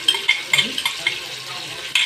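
A spoon stirs grated onion in a pot, the onion frying softly; several sharp scrapes and clinks of the utensil against the pot come at a steady rhythm over a light sizzle.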